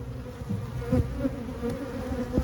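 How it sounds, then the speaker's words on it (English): Honeybees buzz around an open hive that has a history of aggression, a dense, steady drone close by with a few louder passes of single bees and no talk. "This is our famous hive number 9, which in the past has been a very aggressive hive."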